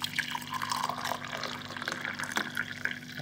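Hot water at 80 degrees is poured into cups holding green tea leaves, a quiet, close liquid stream gurgling and trickling briefly.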